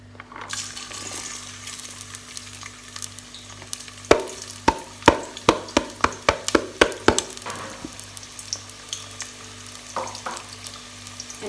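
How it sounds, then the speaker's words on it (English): Onions frying in a pan while githeri is cooked: a soft sizzle sits beneath a rapid run of sharp spatula clacks and scrapes in the middle, then fades to quieter frying with a low hum underneath, close up and without speech. "So I'm gonna put onions in."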